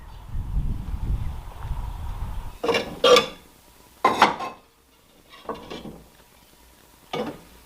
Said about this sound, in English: Now let's go and grab some pots.